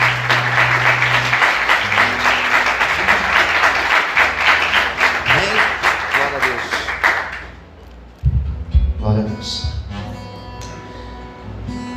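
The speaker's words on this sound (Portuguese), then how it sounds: "Você pode aplaudir Jesus bem forte?" A church congregation applauds loudly at a sermon, dense rapid clapping for about seven seconds that dies away, followed by organ-like music chords.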